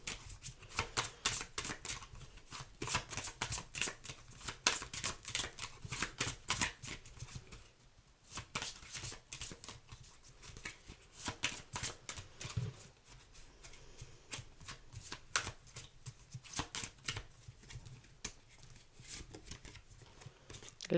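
Oracle cards being shuffled and drawn by hand, giving quiet, rapid riffling and flicking bursts that repeat steadily with short pauses, close to the microphone.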